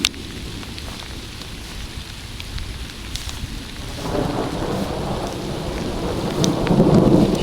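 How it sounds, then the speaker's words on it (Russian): Thunder rumbling through steady rain during a thunderstorm with hurricane-force winds, a low continuous roll that swells louder in the second half over constant rainfall. "Еще громыхает гром."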